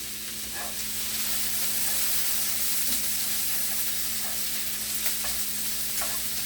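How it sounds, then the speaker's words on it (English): Beef filet sears in a hot pan as it is rolled to brown the outside, giving a steady close sizzle with faint scraping and stirring clicks throughout. "I will roll those in the pan to try to get that same sear on the outside as well"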